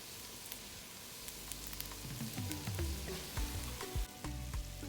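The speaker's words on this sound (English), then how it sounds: "We're gonna add our rice into the pot now. We're gonna mix up now." Rice for Guyanese cook-up rice stirred in a pot, with a steady low sizzle and repeated scraping, thudding spoon strokes that grow louder and more frequent in the second half, close by with no talking.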